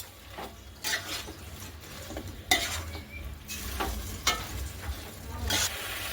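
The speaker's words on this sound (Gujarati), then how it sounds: "હવે તેને સારી રીતે હલાવી લઈશું" Cabbage Manchurian balls stirred through sauce in a hot pan: a soft, steady sizzle with irregular scraping and stirring strokes, close but fairly quiet.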